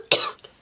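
A single short cough from a woman suffering a bad cold, close and fairly loud, followed by a faint second small cough or throat sound.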